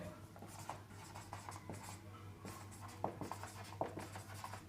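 Chalk or marker scratching across a classroom board in short repeated strokes and taps, fairly faint over a steady low hum, with no talking.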